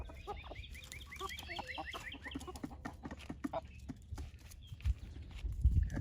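A backyard flock of hens and a rooster clucks and chatters continuously, with a rapid run of calls near the start and low rustling thumps toward the end, fairly close and without speech.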